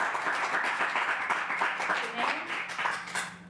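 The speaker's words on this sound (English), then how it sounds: "Keep down the applause, please, so you can hear your names called" Scattered applause from the public gallery at a county council meeting, uneven clapping with a voice talking over it.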